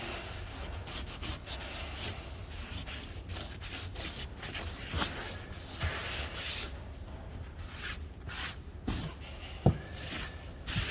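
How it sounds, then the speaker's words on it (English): A rag scuffs the roof vent of an RV in quick, repeated rubbing strokes, a faint, close, rasping sound with small knocks and no speech. "I like to kind of just give it a good scuffing with a rag."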